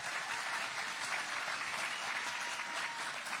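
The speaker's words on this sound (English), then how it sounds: "we'll give them a round of applause" An audience at a pre-race SuperMotocross press conference in Charlotte, North Carolina, gives young riders a round of applause, a dense, steady patter of many hands that fills the room without a break.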